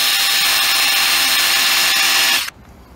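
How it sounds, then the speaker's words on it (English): A loud high-pitched power drill grinds steadily into a hardened steel screw extractor for a couple of seconds, then cuts off abruptly, leaving quiet. "I don't know of any other tool that will actually drill an easy out like that"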